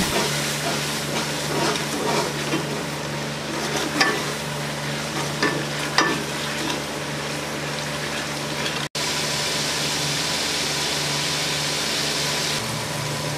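Red chilies with salt and turmeric fry and sizzle steadily in a pan for aloo karela, with a continuous hiss and occasional scraping stirs close up.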